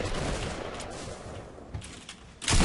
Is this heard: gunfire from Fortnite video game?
yes